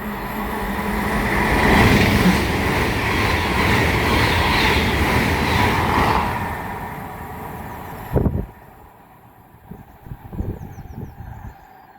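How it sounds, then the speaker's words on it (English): A Great Western Railway IET, unit 800 308, runs from Great Malvern to London Paddington through Pangbourne on the Great Western Main Line. It passes with a loud, sustained roar that fades after about six seconds, then a few quieter clunks follow. "past through now is going to be a Great Western Railway IET from Great Malvern to London Paddington"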